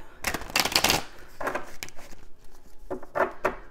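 A deck of oracle cards is shuffled close up in several quick riffling bursts, papery flutters separated by short pauses, with no talking.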